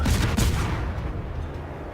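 Naval guns firing a salvo in the World of Warships video game, a single loud booming blast right up front that rolls off into a long fading rumble, with no talk over it.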